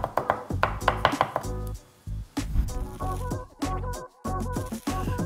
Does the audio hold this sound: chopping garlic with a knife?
yes